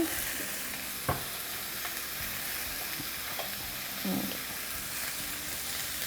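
Bitter melon and other vegetables being stirred in a hot pan, a soft continuous sizzle broken by occasional utensil knocks and scraping strokes, fairly quiet and without talk.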